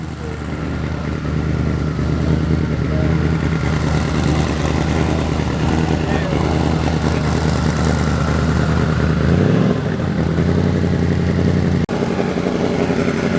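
A loud vintage Alfa Romeo engine warming up, running steadily at idle with a deep, throbbing rumble that shifts pitch briefly near the end, continuous throughout with no talking.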